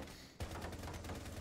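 Muffled gunfire through a wall in Rainbow Six Siege, a sudden burst starting after a brief lull, then rapid continuous shots under dense game ambience.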